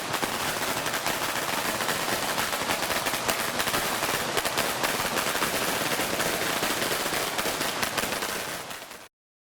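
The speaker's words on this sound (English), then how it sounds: "Mayor Ed Lee lit the firecrackers for the Chinese New Year parade" A long string of firecrackers lit by Mayor Ed Lee for the 2018 Chinese New Year parade, a loud, dense, rapid crackle of bursts that runs without a break and then cuts off abruptly.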